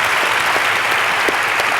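An audience claps steadily in a dense, close wash of applause that holds at full loudness throughout.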